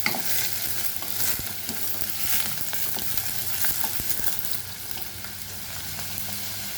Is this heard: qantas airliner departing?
no